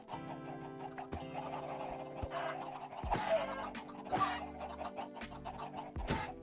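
Repeated short clucks from chickens in the Minecraft video game, with a few louder squawks and thumps mixed over a continuous low game background, no voices.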